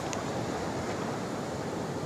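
Rough monsoon sea waves wash against the jetty at Malvan in a steady, continuous surf roar with wind, and no voices.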